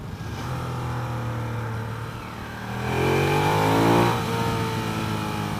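A 2015 Ducati Diavel Carbon Edition motorcycle engine snarling and revving while riding, with a steady drone that rises in pitch and loudness as it accelerates, then settles back.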